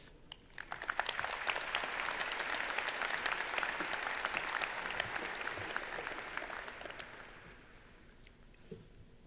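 A convocation audience for new university students breaks into sustained applause to welcome a speaker, a dense wash of clapping that swells, holds steady for several seconds, then tapers off toward the end.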